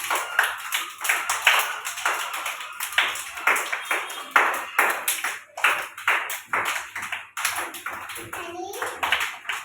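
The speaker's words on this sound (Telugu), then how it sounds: "గట్టిగా కొట్టాలి" Anganwadi children clapping their hands in loose repeated bursts, close and fairly loud, the claps uneven and overlapping, with an adult and kids talking in between.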